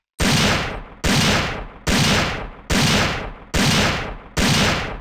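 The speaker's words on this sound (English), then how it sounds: "Now let's try the quick shot maneuver with this." Six heavy gunshots from a Resident Evil 3 weapon fired in quick-shot mode, evenly spaced about one per second, each a loud sharp blast with a long decaying tail, alone with no talk.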